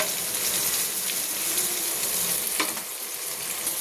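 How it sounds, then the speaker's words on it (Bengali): Dried fish (shutki) frying in oil in a pan, giving a continuous close hiss and crackle of sizzling with a brief sharper pop near the end, and no talking. "শুকুই মাছগুলো সব ভাজা হয়ে গেছে,"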